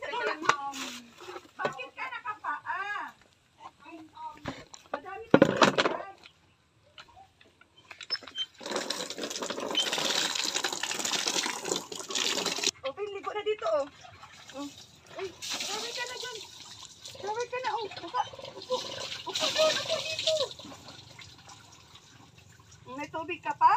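Water runs into a bucket in two bursts of steady splashing noise, first around the middle and again near the end, with people talking in Filipino close by before, between and over it.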